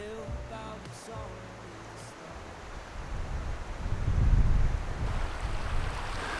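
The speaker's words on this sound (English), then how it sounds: "It's pretty windy." Strong wind gusts roar across the microphone in Australian wilderness, building from a low rumble to a loud buffeting peak midway and staying blustery to the end, with a faint tonal sound fading early on.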